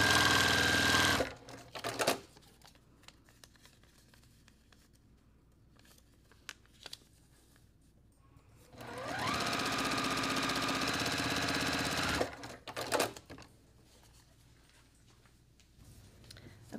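Two separate runs of a sewing machine stitching a quilt block, a short burst at the start and a longer steady run midway, with quiet pauses and small handling clicks between.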